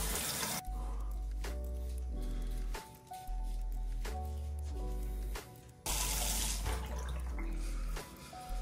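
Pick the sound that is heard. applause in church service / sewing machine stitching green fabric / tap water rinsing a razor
tap water rinsing a razor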